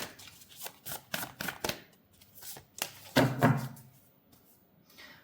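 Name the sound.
shuffling and drawing tarot cards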